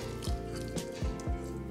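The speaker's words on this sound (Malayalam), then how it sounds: "പുഴുങ്ങി ഇതേപോലെ വെച്ചിരിക്കുന്ന ക്യാരറ്റും കൂടി ഇതിലേക്ക് ഇട്ട് കൊടുക്കുകയാണ്." Boiled carrots dropped into a pot of chicken soup for dogs, making soft wet plops and squishy splashes, three or four separate drops over a low steady background.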